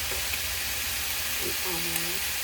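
Garlic fries in a pan with a dense, constant sizzle close up, and a brief faint voice murmur rises under the hiss near the end.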